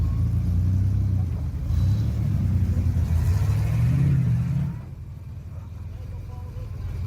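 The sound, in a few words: green Jeep driving off-road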